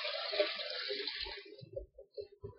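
Running water pours steadily into a bowl to rinse peeled potatoes, a bright splashing stream that stops partway, followed by a few quiet knocks and drips, close and fairly soft.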